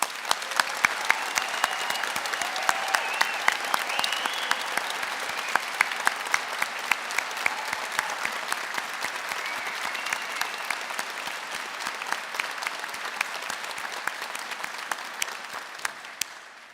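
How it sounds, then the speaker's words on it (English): A large audience at a university graduation ceremony in Belfast gives graduates a sustained round of dense applause that stays steady and full before fading slightly at the end. "just give these fine graduates a final round of applause"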